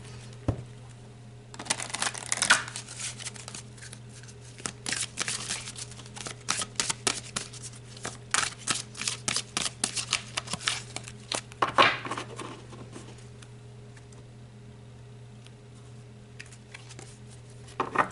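Tarot cards shuffled and pulled during a reading, a steady run of soft papery riffles and flicks that come in close bursts over a low background hum, easing off toward the end.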